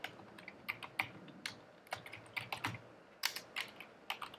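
Keys clack on a computer keyboard as code is typed, irregular quick bursts of sharp taps close by in a quiet room, with no talking.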